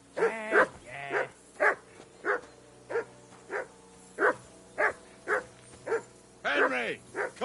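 A dog barks in the medieval video game Kingdom Come Deliverance 2, a dozen sharp, close barks at an even, insistent pace, the last few running together with a brief whine.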